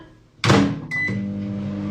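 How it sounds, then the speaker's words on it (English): A kitchen microwave oven heating a small amount of cream: a door thump and a beep, then the steady hum of the running oven, close and clear with no talking. "That goes in the microwave."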